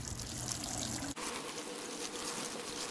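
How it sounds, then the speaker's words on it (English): Water pours into a bucket holding bricks of compressed seed starting mix, a steady close splashing trickle with a brief break partway through before the flow resumes. "pour water."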